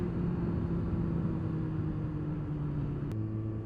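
A 1999 Kawasaki ZX6R G2 motorcycle cruises with a steady droning engine hum under constant wind roar, its pitch shifting slightly near the end.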